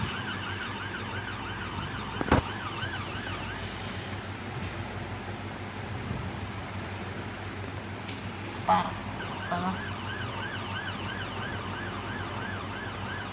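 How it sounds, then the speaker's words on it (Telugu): A police siren in the Roblox video game wails in a continuous, steady warble, with a couple of sharp clicks over it. "పారా పోలీస్ సైరన్ ఉందిరా"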